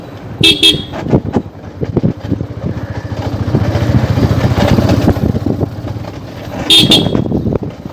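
A motorbike rides on Saint Martin's Island toward Chhera Dwip, its engine rumbling loud and close. Two quick horn toots sound near the start and again near the end, with traffic noise around.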